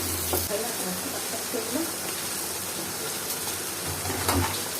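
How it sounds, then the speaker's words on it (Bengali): Chopped raw mango pickle ingredients fry and foam in hot mustard oil, a steady broadband sizzle with soft bubbling and occasional stirring clinks throughout, no talk. "সরিষার তেলে মানে গরম সরিষার তেলে কিছু পড়লে এভাবে ফেনা হবে তো এবার সমস্ত উপকরণ হালকা করে একটু ভেজে নিব পাঁচ মিনিটের মতো"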